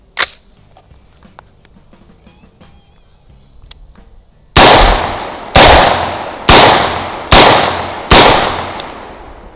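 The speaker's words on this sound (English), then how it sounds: "It's definitely very loud, very concussive, but it helps keep the muzzle flat for sure when you're firing." Five loud, sharp rifle shots fired outdoors from a 16-inch barrel with M193 ammunition and a 2-port muzzle brake, each a concussive crack with a ringing decay, spaced about a second apart after a quiet lead-in.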